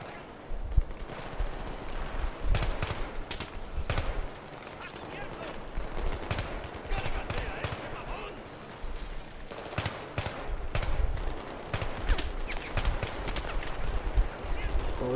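Rapid automatic gunfire and scattered single shots from a Battlefield 3 firefight crackle loudly and almost nonstop, in dense bursts, with brief lulls and voices at times underneath.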